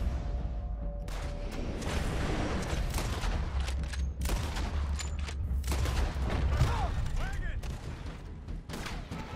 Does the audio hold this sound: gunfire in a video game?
yes